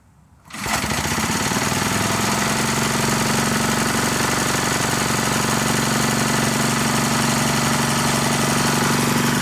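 A 1979 Ford tilt-bed motorhome truck engine cranks briefly and catches, then runs at a loud, rough, steady idle with a fast knocking rhythm, close by and alone.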